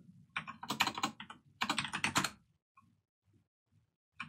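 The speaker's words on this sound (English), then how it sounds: "Am I typing it right?" Quick bursts of keystrokes on a computer keyboard, two dense flurries of clicks followed by a few sparse, isolated taps in an otherwise quiet room.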